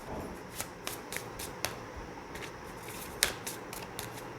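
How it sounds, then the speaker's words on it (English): Tarot cards are shuffled by hand in a quiet room, giving a series of soft, crisp riffling flicks at an uneven rhythm, with one sharper snap partway through. "I'm just going to keep shuffling to see if we get a card naturally"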